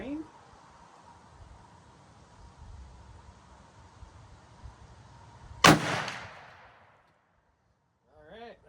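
A CVA Accura MRX .45 caliber muzzleloader rifle fires one sharp, loud shot that booms and decays over about a second, following a quiet stretch with faint movement; a brief voice follows afterward.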